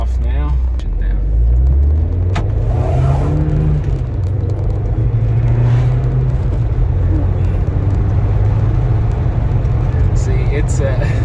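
A cheap manual sports car driving in sport mode, its engine a steady loud rumble that rises and settles with the throttle, with road noise underneath throughout.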